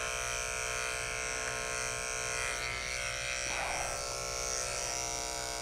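Electric dog clippers fitted with a snap-on comb grooming a Maltese, giving a constant, even buzzing hum with faint shifts as the blade moves through the coat, heard close up without speech.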